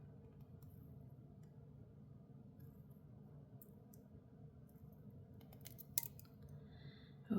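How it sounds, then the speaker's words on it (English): Scissors try to snip bracelet thread in a quiet room, giving a few faint clicks and one sharper snip near the end. "Well, they don't want to snip."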